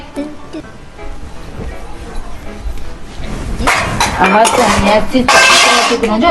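Metal dishes and utensils clink and clatter while being washed, the scraping and clanking growing louder and busier toward the end, with voices talking in the background.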